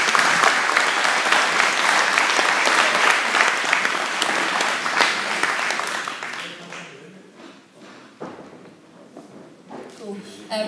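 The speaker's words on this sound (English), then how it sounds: "So put your hands together for Josephine." Audience applause at a public meeting for a performer named Josephine, loud and dense at first, then thinning into scattered claps over the last few seconds with some background movement.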